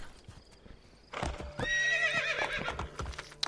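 A horse in the video game Assassin's Creed Brotherhood clip-clops and then lets out a loud, drawn-out neigh, close by, with hoofbeats continuing underneath.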